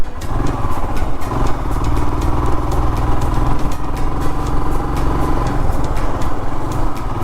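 Royal Enfield Himalayan motorcycle engine running steadily while riding, a loud continuous single-cylinder thrum with rapid regular pulses and wind rush, close and unbroken throughout, no voices.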